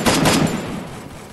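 Gunfire in the Free Fire video game, a quick burst of several sharp shots at the start that fades into a ringing, decaying tail, fairly loud with no talk.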